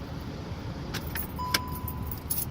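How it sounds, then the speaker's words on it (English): Car key pulled from the ignition of a manual-transmission car, a few short metallic jingles and clicks of the key ring over a steady low hum, close and moderately quiet. "Now you can take the key out of the car."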